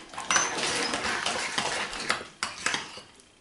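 Salad dressing with a tablespoon of sugar is mixed in a bowl, giving a few seconds of close, fairly quiet scraping and clinking of a utensil, with no talking.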